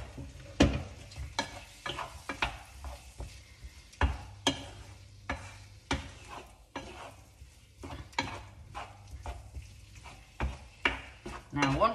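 Flour being stirred into a venison casserole in a pot makes close, irregular clanks and scrapes of a utensil against the pot over a soft sizzle, with no talking.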